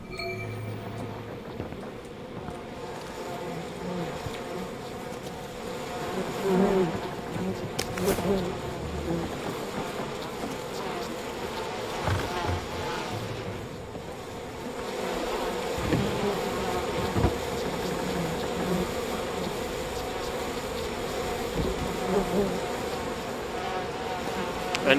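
Bees buzz in a dense, droning swarm in the video game We Happy Few, their hum rising and falling over about twenty-five seconds with faint indistinct voices and game ambience beneath.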